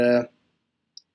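A single faint, sharp computer mouse click sounds briefly after a voice trails off, isolated in otherwise quiet surroundings.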